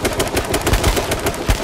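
Rapid gunfire in the online survival shooter H1Z1, a string of loud, sharp shots cracking in quick irregular bursts close by, with no talking over it.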